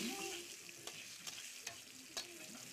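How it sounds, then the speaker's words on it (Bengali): Catfish frying in oil with turmeric powder, a soft continuous sizzle with a few sharp utensil scrapes and taps as the pieces are stirred, heard quietly and without any voices. "হলুদ গুঁড়ো দিয়ে এগুলোকে একটু ভালোভাবে ভেজে নিচ্ছি"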